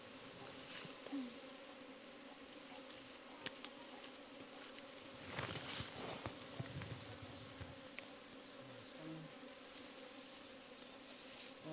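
Bees buzz around a beehive in a steady, low, continuous drone. A few louder insects pass close by, with scattered faint knocks and movement over the hum.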